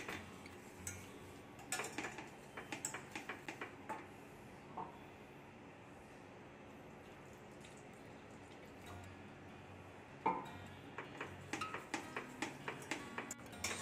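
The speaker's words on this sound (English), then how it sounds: "you have to keep on stirring so that the lump doesn't form." A spoon stirring milk into white sauce for mac and cheese in a pot, with light clinks and scrapes against the metal in irregular bursts, close and fairly quiet, with pauses between.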